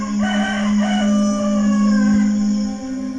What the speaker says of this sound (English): And immediately the rooster crowed.